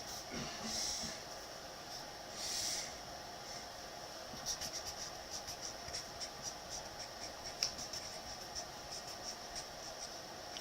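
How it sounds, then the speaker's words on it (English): Pen drawing a triangle, faint scratchy strokes on a surface, with a few louder swipes early on and softer ticking marks after, under a quiet hiss and no talk. "we're going to draw a triangle"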